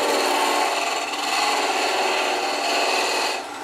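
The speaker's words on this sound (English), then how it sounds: "Skew chisel. This is for kind of like planing the wood." Skew chisel planing wood on a lathe during a live woodturning demo, a steady close rasping shear of the blade across the spinning wood, continuous and loud with no talk.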